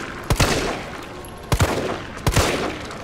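Gunfire in the Resident Evil 3 Remake video game comes in three quick bursts of two shots each, punchy and close, spaced roughly a second apart over a steady game ambience.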